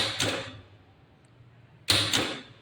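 DOL motor starter contactor with its plunger pulling in: two sharp mechanical clacks about two seconds apart, close and fairly quiet, with a low hum between them and no talking.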